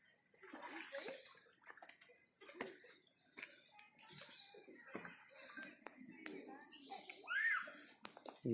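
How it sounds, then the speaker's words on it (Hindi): Water sloshing and splashing in an outdoor swimming pool, with faint scattered sounds of people and children nearby under steady moderate ambience. "और यह है स्विमिंग पूल।"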